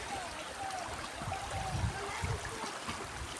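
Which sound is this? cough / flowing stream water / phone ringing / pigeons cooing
flowing stream water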